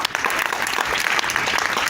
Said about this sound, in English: wonderful round of applause for Alton and the family